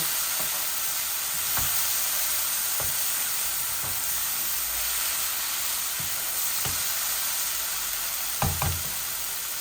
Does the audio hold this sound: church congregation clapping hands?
no